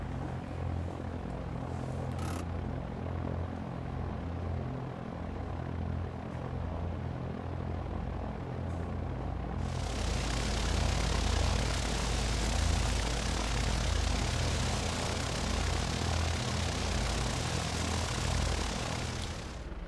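Simulated twin-engine Piper PA30 Twin Comanche in X-Plane taxiing to the runway: steady low propeller engine drone, rising into a louder, brighter roar about halfway through as throttle is applied, continuous and close.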